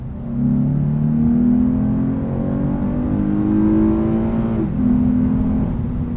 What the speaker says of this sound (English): Let's see, in second we get pretty high into the revs.